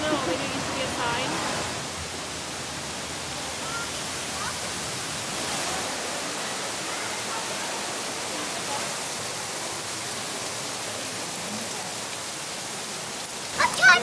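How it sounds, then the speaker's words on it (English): A waterfall rushes steadily at the bottom of a long stairway, a broad constant roar of falling water filling the scene at moderate loudness, with no clear voices over it. "we made it to our first waterfall"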